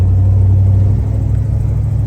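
A matching-numbers 1973 Dodge Charger with a 340 high-output H-code V8 idles nearby, a loud, deep, steady rumble with a slight dip in pitch partway through.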